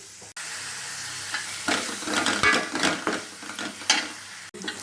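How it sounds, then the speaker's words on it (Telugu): Onions frying in a pan until brown for a brinjal and dry prawn curry, a bright close sizzle that swells as a spoon stirs through them in several scraping strokes, with no talking. "ఈ ఆనియన్స్ని బ్రౌన్ కలర్ వచ్చే వరకు వేసుకోండి"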